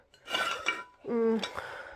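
A baking dish is picked up and set about, giving a few close metallic clinks and a short ringing scrape, fairly loud with no talk.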